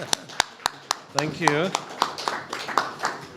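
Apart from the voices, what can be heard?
audience applause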